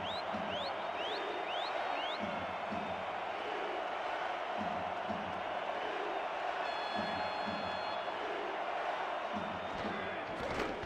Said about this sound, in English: Crowd on their feet here at Bank Michigan Stadium.